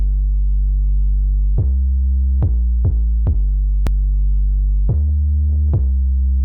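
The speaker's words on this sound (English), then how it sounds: "Then I got a sub bass from Arcade, and I laid it out so it follows the key elements of the actual melody." Sub bass from the Arcade plugin in a trap beat, laid out to follow the melody: deep sustained low notes that change pitch in a stepped pattern, with sharp percussive hits landing on each note change, no voices.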